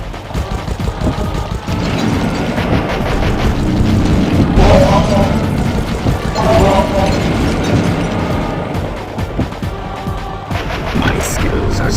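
Missiles explode against a boss's armor in the Sly Cooper game, making heavy continuous booms and blasts that rumble loud and dense throughout, with swells of impact and a sustained low roar.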